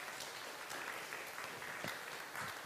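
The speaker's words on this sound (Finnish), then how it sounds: "Annetaan ihan ensiksi aplodit meidän vieraille" Continuous crowd applause, a dense wash of clapping from many hands, steady and moderately distant, with faint scattered voices beneath.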